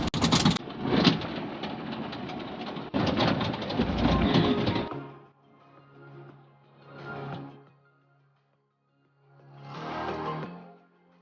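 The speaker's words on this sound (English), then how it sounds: "You heard the owl's call?" After a burst of loud rumbling noise, two low, drawn-out hooting calls sound out, separated by quiet, over a steady low hum.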